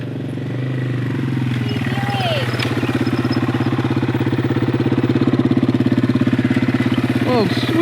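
A motorcycle rolls in and idles nearby, a steady loud engine putter with a rapid even pulse that holds throughout, with faint whistle-like sounds briefly over it.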